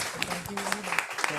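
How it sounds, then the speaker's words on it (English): Applause from an audience at a lecture session, heard as a short burst of mixed clapping under a speaking voice. "Can we please have a huge round of applause?"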